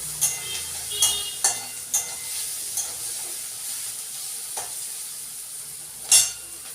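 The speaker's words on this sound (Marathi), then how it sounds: "थोडा कांदा तळून घेते मी." Onions fry in a pan for an abai bean pod vegetable dish: a soft constant sizzle broken by several sharp stirring scrapes and clinks, one louder knock near the end.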